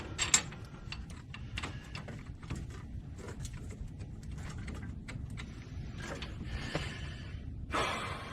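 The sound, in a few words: ratchet starting hub bearing bolts on a Silverado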